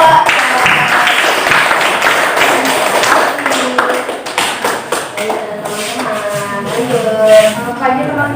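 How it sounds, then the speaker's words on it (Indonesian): A classroom audience gives a presenting student group a short burst of applause, uneven close claps from a handful of people, with some voices chattering underneath. "kita beri aplaus dulu untuk kelompok"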